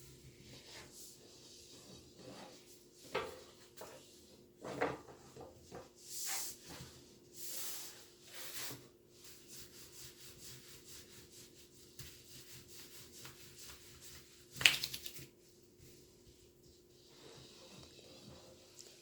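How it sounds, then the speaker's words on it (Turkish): Homemade yufka pastry dough for walnut baklava being rolled out thin with a rolling pin: soft, intermittent rubbing and swishing strokes, close and fairly quiet, over a low background hum. "yufka açma işlemini de ben size göstermek istiyorum."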